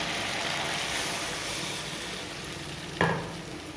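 Dhoka lentil cakes dropped into a spiced potato masala, with a steady hissing sizzle throughout and a sharp clatter near the end as the pieces go in, close and fairly loud.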